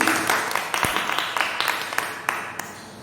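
A church congregation gives loud applause of scattered, sharp claps that pop at an uneven rhythm for a few seconds.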